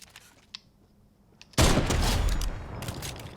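Gunfire in the Fortnite video game, a sudden loud burst of rapid shots after a quiet stretch with a few faint clicks, continuing dense and sustained.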